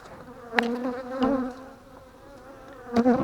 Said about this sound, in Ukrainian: Але дуже злі бджоли.